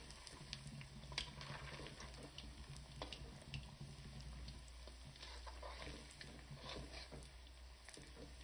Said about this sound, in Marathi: साधारण 5-6 मिनिटं तेलामध्ये बॉल्स तळून घ्यायचे